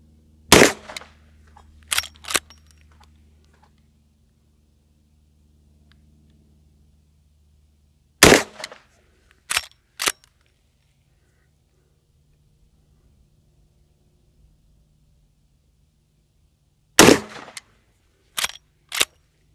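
A Henry All Weather side-loading-gate lever-action rifle in .44 Magnum is fired at a target 30 yards away outdoors, giving three separate clusters of sharp, loud gunshots. Each cluster holds two or three cracks, and long quiet gaps separate the clusters.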